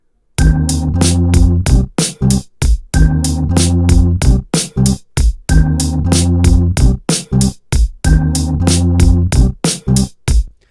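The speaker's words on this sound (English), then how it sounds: "let's hear that with our keyboard riff and see how it sounds right away" A keyboard riff of sustained chords plays over a programmed MIDI drum beat, the phrase repeating loudly in a steady looped pattern with crisp percussive hits between chord stabs.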